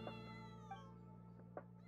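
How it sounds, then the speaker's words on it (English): A cat meows faintly in the Genshin Impact card game, with a few short, soft meows over a steady hum of background music. "What's the cat doing?"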